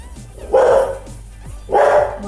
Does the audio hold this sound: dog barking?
yes